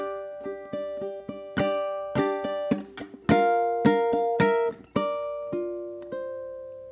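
Ukulele fingerpicking a catchy melody over four measures, a steady run of bright plucked notes with some muted strokes, played close and alone without any voice.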